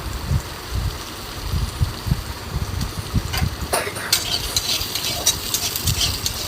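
Green chillies stirred in a hot pan for a dried fish dish, with a steady low sizzle and repeated scraping strokes of the spoon, close and fairly loud, no talking.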